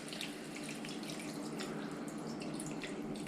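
Water poured from a measuring cup into a cooking pot for pork adobo, a steady soft splashing trickle that stays even and fairly quiet throughout.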